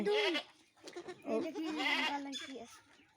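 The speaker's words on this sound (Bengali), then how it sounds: "কয়টা ছাগল আটটা সাতটা হ্যাঁ। অনেক ছাগল তোমাদের" Seven or eight goats bleat in short, wavering cries close by, several calls in a row amid some conversation.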